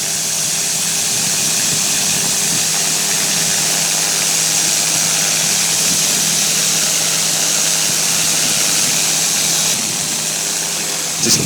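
A microlight aircraft engine runs at a loud, constant full-power drone with a buzzing, vibrating tone that holds steady throughout.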